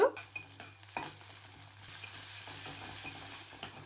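Onions with curry leaves and ginger garlic paste frying in a pan and stirred, a sharp utensil clink at the start, then soft sizzling with scraping stirs and a low background hum.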